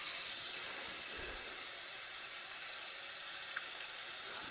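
Tap water runs steadily while pork is rinsed for maple buckboard bacon, a continuous close hiss filling the whole clip with no talk.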